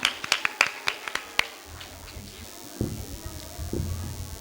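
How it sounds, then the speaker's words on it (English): A handful of crisp, scattered claps ring out close by in an audience at a school annual function, then stop, leaving quieter room sounds and low voices. "Please give a big round of applause"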